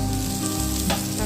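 Tomatoes go into hot sizzling oil for a South Indian home dish, a brief, loud, close frying hiss with a burst of crackle partway through.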